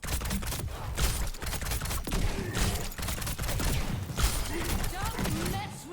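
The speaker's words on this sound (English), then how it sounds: "let me just demonstrate you that combo that I mentioned with Frostbolt's Relentless Barrage" Rapid volleys of projectiles fire from Freja's Frostbolt and Relentless Barrage combo in Overwatch 2, a dense, continuous crackling barrage with mechanical clicks, loud and busy throughout.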